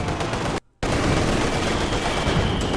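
A Pak anti-tank gun fires on a T-34 tank in Company of Heroes, loud, dense battle noise with a brief dropout of silence before the din resumes.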